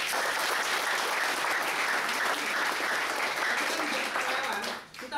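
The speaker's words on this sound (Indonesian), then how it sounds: "Kasih tepuk tangan untuk mereka." A large crowd at a motivational gathering claps in dense, sustained applause that stays loud and steady before tapering off near the end.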